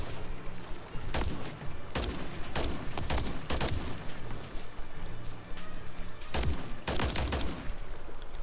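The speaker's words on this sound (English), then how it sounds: "And if need be, I can always spam fire like that." Rapid semi-automatic rifle fire in Modern Warfare III, clusters of sharp shots fired in quick succession with short pauses between bursts, close and loud over a rumbling battle background.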